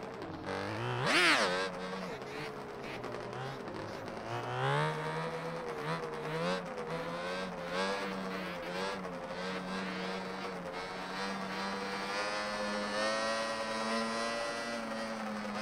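An ATV Banshee engine in a video game mod revs and climbs in pitch, its harmonic whine rising and falling steadily with a sharp rev burst early on, loud and continuous with no talking.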